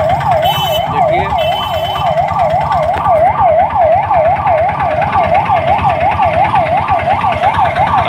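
A loud ambulance siren wails continuously in a fast, rising and falling cycle, close by, with faint road traffic underneath.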